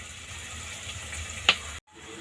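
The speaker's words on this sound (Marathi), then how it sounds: "ह्या मिक्स डाळी टाकून घेऊया आपण आपण दोन मिनटं फ्राय करून घेऊया" Mixed lentils fry in a home-kitchen pan for khichdi, giving a steady hissing sizzle with a single sharp clink partway through before the sound cuts off abruptly.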